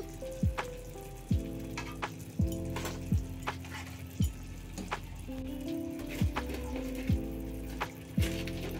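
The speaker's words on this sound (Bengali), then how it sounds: "এইভাবে একটু ফুটিয়ে নেব।" Chitrakoot sweets simmer in sugar syrup, a close bubbling boil with repeated soft drips and plops at a steady rhythm, with no talk.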